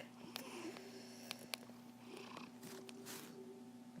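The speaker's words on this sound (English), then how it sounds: "my silly cat is back on the desk" A cat purring on a desk, a soft steady purr close by under a faint background hum with a few small clicks and sniffs.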